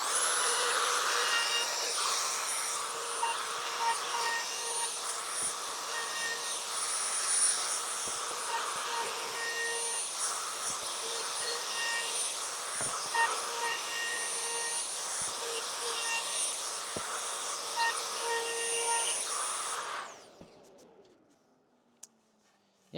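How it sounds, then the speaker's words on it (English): A trim router with a small 2mm round-over bit shapes the edge of an epoxy resin chopping board, whining steadily and loud for about twenty seconds before spinning down and cutting off. "We're going to start with this small 2mm round that was already in the trimmer."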